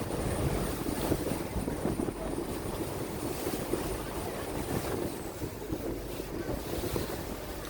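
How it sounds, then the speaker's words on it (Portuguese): A fairly noisy boat cruising along the river in Bangkok, its engine rumbling steadily beneath water wash and heavy wind buffeting the microphone, with no talking. "O barco ele também é um pouco barulhento"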